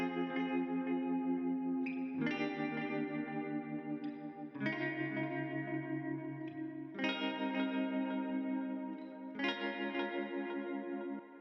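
Electric guitar chords through a tremolo pedal ring out steadily with a pulsing, wavering effect, changing roughly every two seconds and played alone.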